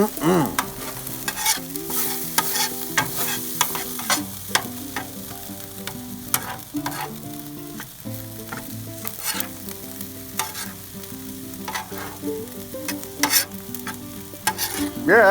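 Rice being stirred and fried on a Blackstone Adventure Ready 22-inch griddle at a campsite, continuous sizzle with rapid metallic spatula scrapes and taps, close and loud; a steady tonal hum runs underneath.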